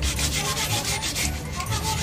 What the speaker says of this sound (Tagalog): Sa paghuhugas po ng ating patatas, kailangan po natin gumamit ng brush.